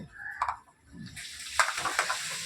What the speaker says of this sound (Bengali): আমার এটা ভাজা বাদামই একটু কড়াইয়ের মধ্যে তেলের মধ্যে দিয়ে তুলে নেব